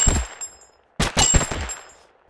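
Two short bursts of gunfire from a Totally Accurate Battlegrounds gun with little recoil: one brief volley, a pause, then a longer rapid string of loud, close shots that ring out and fade.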